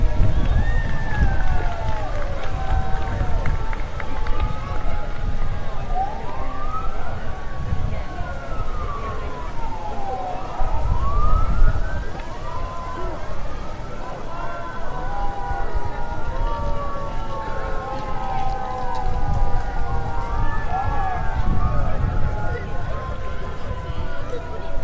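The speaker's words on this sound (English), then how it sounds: "And more sirens." Emergency sirens wail at a Memorial Day parade in Franklin, their rising and falling tones overlapping from several vehicles at middle distance over steady crowd and street noise for the whole stretch.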